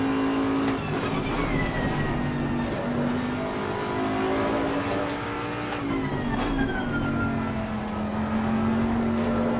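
A Bentley GTC race car laps the Hungaroring in the Assetto Corsa racing game, its engine droning loud and continuous, pitch rising through the gears and dropping on a shift midway.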